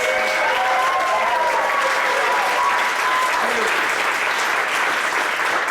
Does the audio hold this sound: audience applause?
yes